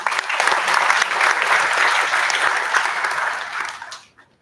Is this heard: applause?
yes